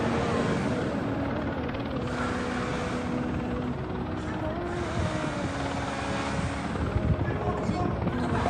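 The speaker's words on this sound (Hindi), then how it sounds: "इजराइल अपने अटैक हेलीकॉप्टर को उड़ा रहा है" An Israeli attack helicopter in flight gives a steady, loud rotor drone that lasts the whole stretch, with a voice talking over it.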